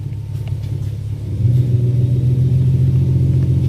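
A car engine runs in a garage with a steady, deep idling rumble that swells noticeably louder partway through and then holds, with no talking.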